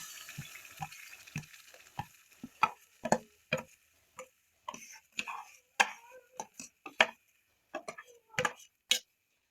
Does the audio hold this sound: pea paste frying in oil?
yes